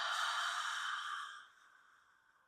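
A long, deep breath is pushed out through an open mouth, a breathy airy rush that starts strong and slowly fades away, heard alone and close.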